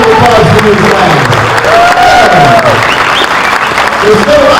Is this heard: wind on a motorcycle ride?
no